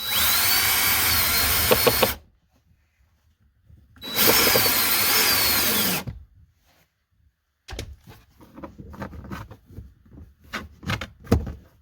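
Power drill boring pilot holes for mounting rock lights inside a Jeep XJ cargo area, two sustained close whirring bursts of about two seconds each separated by silence, then scattered clicks and handling knocks.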